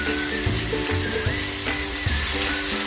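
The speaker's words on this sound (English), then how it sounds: "So continue stirring. As always, use medium heat." Creamy tilapia in coconut cream stirred in a frying pan over medium heat gives a loud, continuous bubbling sizzle with faint scraping from the stirring, heard alone without speech.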